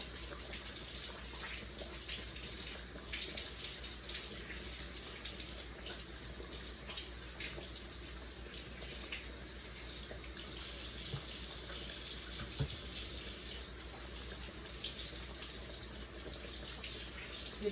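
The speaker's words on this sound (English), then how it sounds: "Let me wash my hands off here." Steady stream of running tap water as dough is washed off hands at a kitchen sink after making drop dumplings, a continuous close hiss with faint splashing throughout.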